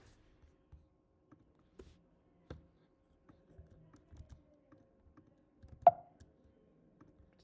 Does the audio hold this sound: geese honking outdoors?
no